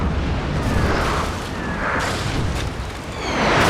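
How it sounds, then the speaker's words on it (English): The warship Principe Asturias fires its cannons in a Napoleon Total War naval battle, with loud booming blasts rolling into one another and a heavy rumble swelling again near the end. "The Principe Asturias is firing."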